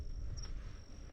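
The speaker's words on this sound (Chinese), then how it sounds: "就听到那个蟋蟀的声音" Crickets chirp in a steady high trill at night in an abandoned, overgrown park, fairly faint and continuous over a low rumble of wind, with no voices.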